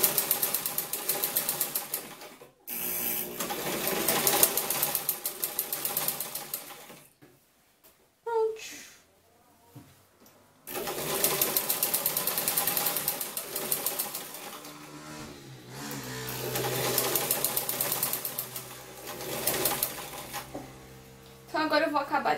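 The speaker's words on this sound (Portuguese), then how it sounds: "E é só tocar na máquina reta." A straight-stitch sewing machine hems a square neckline in long runs of fast, steady mechanical whirring, stopping and starting a few times, with someone speaking over part of it.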